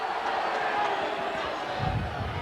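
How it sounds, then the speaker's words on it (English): Crowd noise from spectators at a 1990 Leeds versus Castleford rugby league playoff match, a steady broad roar of cheering that swells slightly near the end, with a commentator talking over it. "the crowd certainly fired up"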